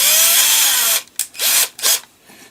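A power drill bores out a 3D printed carriage swing arm for an FDM filament loader, a steady loud whine for about a second followed by several short bursts of drilling with brief pauses between them.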